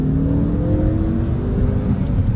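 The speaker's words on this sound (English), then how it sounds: "But it's wheel hop and it exists." A Ford Focus ST accelerates hard with wheel hop, the engine note rising under a rapid, juddering pulse from the front end, loud and close inside the car.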